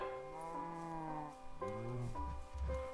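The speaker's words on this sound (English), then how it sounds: "Yes, yes, I hear you, cows." Minecraft cows give two long, drawn-out moos in succession, fairly close and clear, with a low rumbling bellow near the end and no talking over them.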